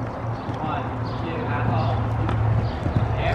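A horse cantering toward a jump with muffled hoofbeats on the ground, partly buried under loud wind or mic rumble while a rider or trainer talks over it.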